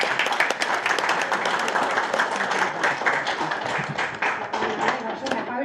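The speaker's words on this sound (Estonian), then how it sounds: "Aplaus!" Applause from the audience at a municipal council session, steady and fairly close, lasting through the whole stretch as dense, even clapping with no lull.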